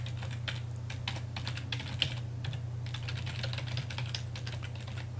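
Clicky keys on a computer keyboard under Windows 8, tapped in a steady stream of quick, close strokes over a constant low hum, with no one speaking.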